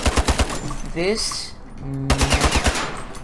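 Rapid bursts of automatic gunfire in the Ironsight video game, loud and close, in two volleys with a short gap filled by a brief voice and game sounds.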